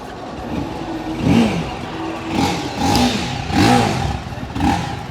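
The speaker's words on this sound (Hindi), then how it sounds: "Let me start the bike for you." A TVS Apache RTR 310 motorcycle engine revs in a series of short, throaty bursts, rising and falling about five times at close range.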